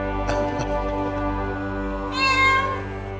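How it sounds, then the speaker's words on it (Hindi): A cat meows once, a clear rising and falling call near the end, heard over a steady background tone in an indoor domestic setting. "अरे बिल्ली कहाँ से आ गई?"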